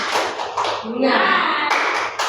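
Hands clap briskly in a quick burst alongside voices chanting together, the claps mixing with the group's speech.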